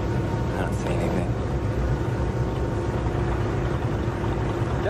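A boat engine runs in a steady, close droning hum with no change in pace, alone and unbroken.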